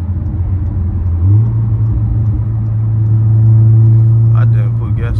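Engine drone from a Stage 2 Audi S3 heard from inside the cabin, a low steady rumble that rises in pitch as it accelerates, with a voice talking over it near the end.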